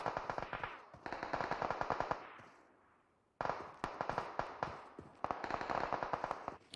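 Rapid automatic gunfire from the mobile battle royale game PUBG Mobile during a competitive esports match, with loud repeated bursts of shots, a short pause, then more sustained volleys.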